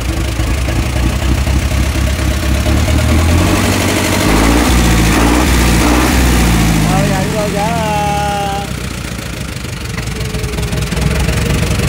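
A Kubota M6970 tractor engine running on a test, a loud, steady diesel drone with a throbbing low rumble throughout, while someone talks over it close by.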